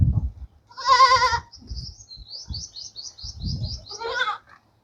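Goats playing in sand give two loud, wavering bleats near the start and end, with a high chirping trill between them. Soft shuffling and thumps from hooves in the sand sound underneath.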